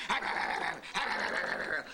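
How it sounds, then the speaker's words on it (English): Dog chomping sound effect from the 1995 Kenner The Mask Maskmobile toy vehicle: two loud, tinny electronic bursts of barking and growling, close and alone. "First, the Maskmobile with dog chomping action."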